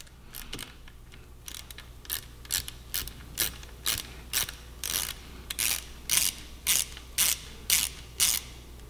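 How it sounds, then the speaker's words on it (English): Ratchet wrench loosening a JB Weld-glued bolt from the engine cover of a 2017 Yamaha R6, a close series of sharp, evenly spaced clicking bursts that speed up and grow louder toward the end, with no talking. "we're gonna begin by taking off this nasty JB Weld bolt that they put in there"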